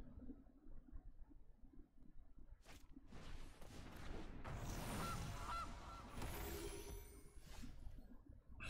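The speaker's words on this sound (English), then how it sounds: "There's a goose, a loosey goosey." A cartoonish goose honks in a card-battle video game, a few bright calls rising out of busy game effects and whooshes in the middle of the clip, fairly loud against a quieter start.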